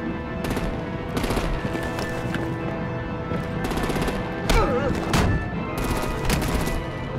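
Artillery and automatic gunfire rattle in Batman: The Enemy Within, coming in several sharp bursts of rapid shots spaced across the scene, loud and close.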